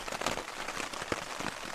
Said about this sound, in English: As you can probably hear, it's raining.